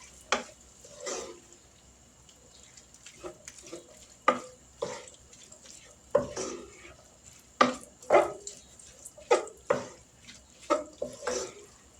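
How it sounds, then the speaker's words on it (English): Casserole ingredients being mixed in a dish, utensil strokes scraping and thudding in uneven bursts spaced a second or so apart, close and fairly quiet against a faint steady background hum, no talking. "Now we're going to mix all this up"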